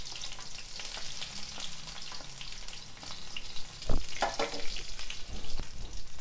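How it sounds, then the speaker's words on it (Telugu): Thin-sliced medium onion sizzles in hot oil with mustard seeds and cumin, a steady close crackle broken by a few louder bursts and pops near the end. "ఆ తర్వాత ఒక మీడియం సైజు ఉల్లిపాయ సన్నగా పొడుగ్గా కట్ చేసుకొని వేసుకోవాలి"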